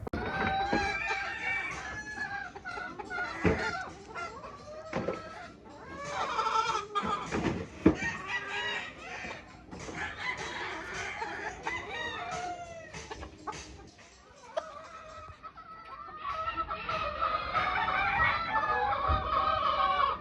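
Several gamecocks and hens clucking and a rooster crowing nearby, with overlapping calls and some bleating in the background of a busy farmyard.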